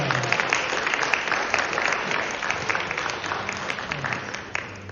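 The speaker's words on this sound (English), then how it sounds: "A round of applause for Tia." An audience at a music recital applauds in a dense, sustained wash of clapping that stays steady for several seconds before thinning slightly at the end.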